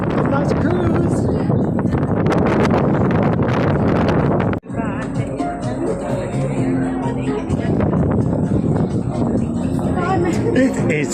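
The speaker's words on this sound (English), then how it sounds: "It is windy AF." Strong wind buffets the microphone on the open deck of the P&O Arvia cruise ship in the Mediterranean, a loud steady roar that briefly drops out midway, with someone talking over it.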